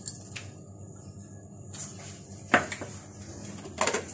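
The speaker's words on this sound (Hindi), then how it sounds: "क्रश्ड आइस डालेंगे इसमें।" Crushed ice tumbles into a chocolate mocha drink, heard as a couple of short, rattling clatters against the container, close and moderately loud over a steady low room hum.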